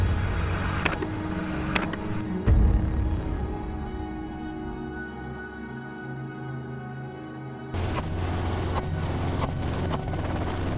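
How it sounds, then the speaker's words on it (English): A steady low chopping drone of a helicopter rotor chasing wild boars fills the clip, dipping slightly in the middle before returning at full strength. "The sound of the rotor seemed to make them warier."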